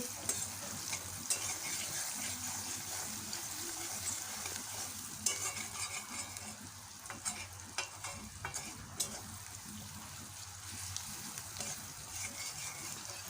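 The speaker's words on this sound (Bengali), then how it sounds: "ঝাল আর পেঁয়াজটা প্রায় ভাজা হয়েই গেছে" Chilli and onion frying in a pan, a steady close sizzle with the scrape and clatter of a spoon stirring at irregular moments throughout, no voices.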